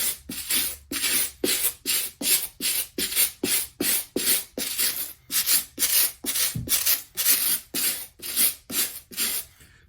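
A stiff-bristled brush scrubs a Nike Dunk Low sneaker back and forth in a fast, even rhythm, each stroke a harsh raspy swish, close and loud.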